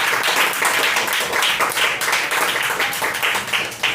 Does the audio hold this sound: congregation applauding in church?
yes